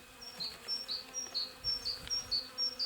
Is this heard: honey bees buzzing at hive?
yes